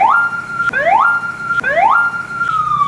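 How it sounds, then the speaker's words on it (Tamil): A nearby ambulance siren wails loudly and alone in repeated rising sweeps, each climbing and then holding a high tone before dropping and rising again, about three cycles. "பக்கத்தில் ஆம்புலன்ஸ் சவுண்டு கேட்கும்."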